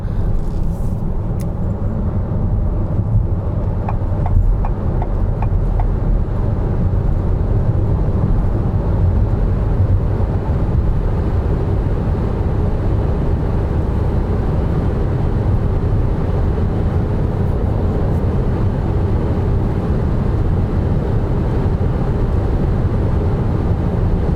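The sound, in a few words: Volkswagen e-Caravelle driving at high speed on Autobahn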